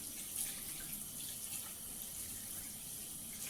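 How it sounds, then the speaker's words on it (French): A bathroom or kitchen tap runs steadily while hands are rinsed beneath it, a soft continuous hiss of flowing water with no voices, quiet and even throughout. "Vous rincez vos mains, mais vous ne fermez pas le robinet à main nue."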